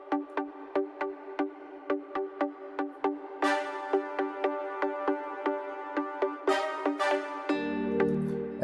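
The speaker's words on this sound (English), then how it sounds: "And then I added another Nexus. This time it's a brass, staccato." Staccato brass stabs from a Nexus synth in an Afro house groove, short evenly spaced hits repeating root and fifth, joined midway by brighter layered chords and ending on a low sustained swell.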